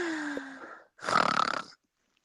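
A person snoring: a short nasal rumble, a pause, then a louder rattling snore with fluttering pulses, close to the microphone and with no talk over it.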